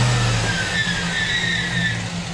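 Chevrolet Silverado V8 swapped in place of a V6 revs as its throttle is tested, a loud close engine roar rising and holding with a whining tone above it, continuous and without speech.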